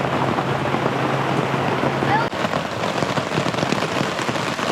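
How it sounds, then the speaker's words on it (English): Heavy rain pours steadily onto tarps and a beach umbrella at a lakeside canoe campsite on Rock Lake, a loud continuous hiss with occasional louder drops throughout. "Rock Lake during a rainstorm."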